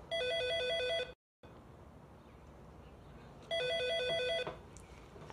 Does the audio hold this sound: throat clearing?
no